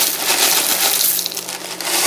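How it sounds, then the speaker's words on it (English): Cornflakes cereal pours into a bowl, a dense continuous crunchy rattle of dry flakes, close and fairly loud for about two seconds. "So, first, you have to take the cereal,"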